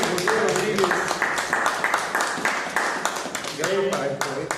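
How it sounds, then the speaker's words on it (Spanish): An audience at a reading-culture talk in Naucalpan gives a burst of quick, fairly close hand clapping throughout, mixed with a voice speaking over it. "Un aplauso, por favor"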